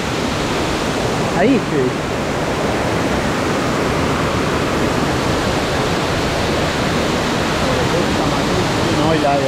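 Waterfall pouring into a canyon, a steady loud broadband roar of falling water filling the scene throughout, with a brief spoken remark near the start.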